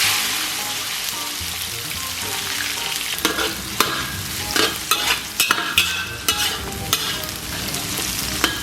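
Chopped scallion, ginger and garlic stir-fry in hot oil in a pan, a continuous sizzle that turns busier halfway through as a spatula repeatedly scrapes and clacks against the metal in quick, irregular strokes.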